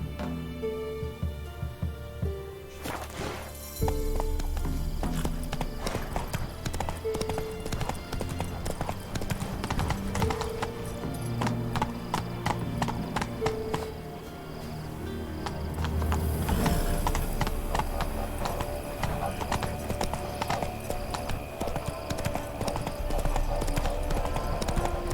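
A horse's hooves clip-clop steadily in The Witcher 3: Wild Hunt, a continuous rhythmic trot heard up close over layered in-game music and ambience.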